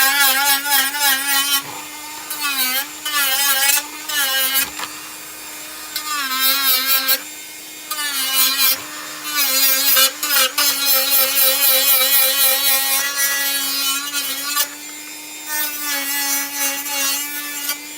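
A Dremel rotary tool fitted with a flap disc grinds a Tie Pilot helmet, a loud high-pitched whine that rises and falls in pitch as the disc bites and eases, in short bursts with brief pauses.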